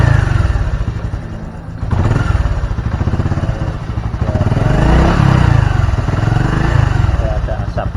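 A Honda Supra X 125 Fi motorcycle engine, already smoking white, revs on the throttle up close, its clattery idle swelling into loud rising pulls and easing back in uneven waves.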